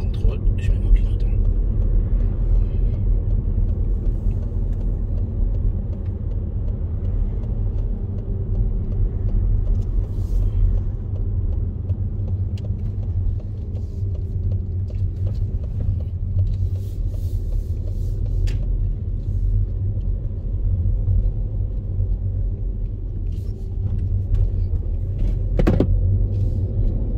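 A car drives steadily through town during a French driving exam, its engine and road rumble a constant low drone throughout, with people talking over it inside the cabin.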